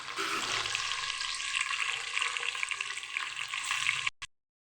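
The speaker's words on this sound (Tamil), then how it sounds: "அப்படி லைட்டாக வதக்கிட்டு" Onions and green chillies sautéing in a pan for home-style vegetable biryani give a continuous, fairly close sizzle, unbroken for about four seconds before cutting off abruptly, with no talking.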